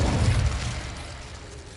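One heavy burst of an Incendio fire spell in a fantasy wizard adventure game, a loud whooshing boom at the start that fades into a roaring tail.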